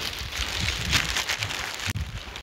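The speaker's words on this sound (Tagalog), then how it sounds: "Inabutan na kami ng ulan sa aming paglalakad." Steady rain patters on surfaces and foliage during a mountain trek in Sapa, Vietnam, a dense continuous hiss with low thumps of nearby movement and no voices.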